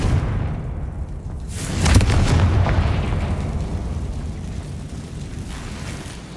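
A Confringo fire spell explodes in Hogwarts Legacy, landing as a loud, deep boom that swells at about two seconds, then rumbles and slowly fades.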